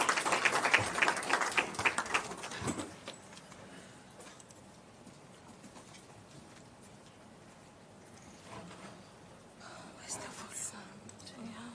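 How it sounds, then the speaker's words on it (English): A live audience applauds as a woman comes onto the stage at a provincial research colloquium. The clapping is dense and fairly close for about three seconds, then thins into scattered claps and room noise before a brief later swell. "Let's just give her some round of applause."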